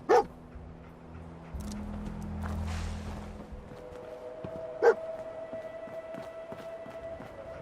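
A dog in the video game Fallout 4 gives two sharp, separate barks several seconds apart, with quieter game ambience and tones between them.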